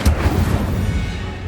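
Incendio fire spell cast in the Hogwarts Legacy video game, a loud, dense whooshing blast with a deep rumbling body that fades slowly over a second and a half.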